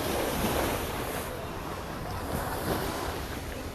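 Ocean waves breaking at Wonnapha beach in Bangsaen at night: a steady, loud roar of surf with gusting wind noise over the microphone and no clear talk.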